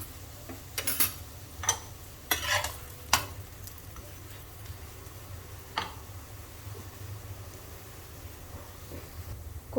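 Sindhi koki flatbread fries in oil in a pan with a soft, steady sizzle, while scattered light clicks and spatula taps cluster in the first few seconds and then thin out. No one speaks.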